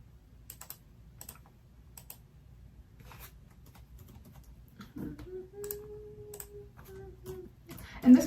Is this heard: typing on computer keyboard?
yes